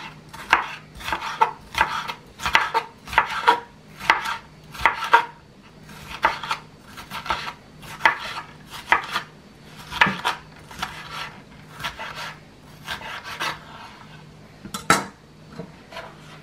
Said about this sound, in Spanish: lo vamos a cortar así en rajitas